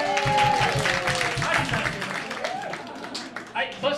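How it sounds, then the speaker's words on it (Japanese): A crowd at a live band concert applauds an MC's introduction, a dense wash of clapping that stays steady under an amplified voice and some tonal sound before thinning toward the end. "拍手。"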